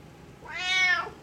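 Siamese cat giving a single close, clear meow that rises and falls, heard alone.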